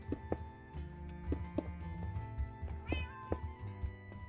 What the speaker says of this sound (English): Thanks, cat.